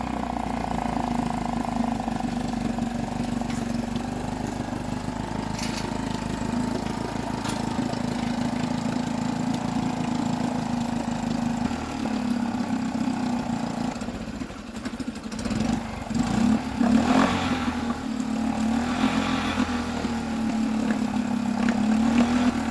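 A Suzuki 2 horsepower outboard kicker motor, little run in years, runs on a skiff with a steady mid-pitched buzzing drone, fairly close and constant, with some rougher clattering and throttle changes toward the end.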